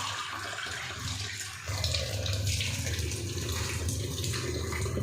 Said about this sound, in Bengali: একটু জল দিয়ে দিলাম, একটু ফুটুক।